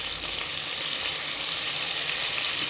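Cumin, mustard seeds and tomato sizzle in hot oil in a pan, a steady bright hiss of frying that stays even and close throughout with no talk.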